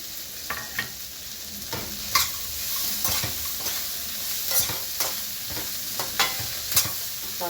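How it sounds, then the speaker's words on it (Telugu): Ginger-garlic paste frying in a pan for rice-flour upma, stirred with a spoon: steady close sizzle broken by repeated scraping clicks and taps at an uneven rhythm, no talking. "కాసేపు కలపాలి"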